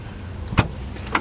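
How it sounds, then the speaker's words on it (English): A car's boot is opened: a short mechanical latch pop, then a second, higher click as the lid releases, close and alone. "Open the boot"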